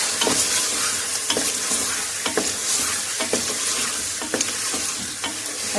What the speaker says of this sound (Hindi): अब मैं चिकन डालने लगी हूँ।